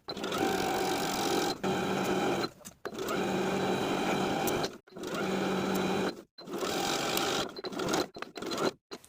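Sewing machine stitching a waistband onto summer shorts in four bursts of fast, buzzing needle rhythm separated by short pauses, close and clear with no talking.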